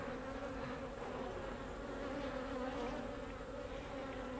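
Honey bees buzz steadily during a beehive inspection, a dense, close, continuous drone of many insects with a constant hum and no talking.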